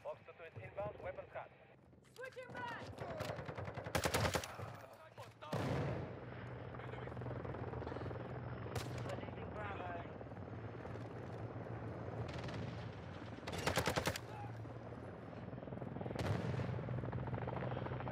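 A steady helicopter rotor drone from a chopper gunner killstreak in Modern Warfare 2 runs throughout, broken by loud bursts of gunfire and explosions, with players' voices talking over it.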